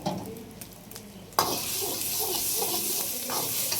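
Chicken fried rice with beans and carrots is stir-fried in a restaurant-style pan, a quiet scrape giving way to a sudden loud, steady sizzle with stirring scrapes running underneath.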